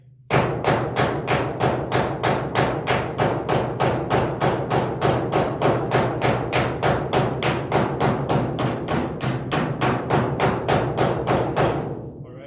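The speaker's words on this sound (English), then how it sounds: "So I just go ahead and hammer away." Steady, rapid hammer blows on a metal car body panel over a dolly, removing the drip rail of a 1964-74 GM A-body, about two or three strikes per second, loud and close, for around twelve seconds.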